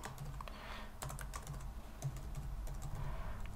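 Someone types a name on a computer keyboard, a quiet, uneven run of soft key clicks over a faint background hum.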